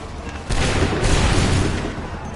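A volley of Redcoat muskets fires on command in Assassin's Creed III, a loud crackling burst of overlapping shots that swells suddenly and rumbles for about two seconds.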